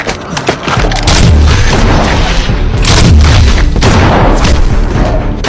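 Gunfire in a movie action scene, a very loud burst of booming shots and blasts echoing over a rumbling background, with no talking.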